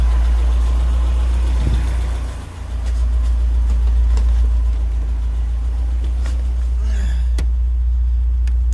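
A Ford Sierra 2.0 OHC engine idles steadily with the heater blower running, a constant low hum with a brief dip in the middle and a few light clicks near the end, no speech.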